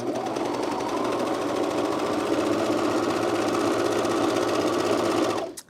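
A serger overlocks a seam on a Deer and Doe Sirocco jumpsuit, a steady, loud mechanical whir with rapid stitching chatter running continuously for over five seconds before stopping abruptly, with no talk.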